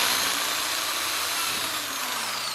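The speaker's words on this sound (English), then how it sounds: "all I'm going to do is drill through the front" A power drill boring holes through the front of a bathroom vanity cabinet door for handles, a continuous high-pitched whine held close and loud for the whole stretch with no voices.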